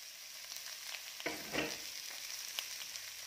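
Snow peas stir-frying in sesame oil in a pan, a soft, steady hiss of sizzling with a louder crackling burst as the food is stirred, quiet and close, no talking.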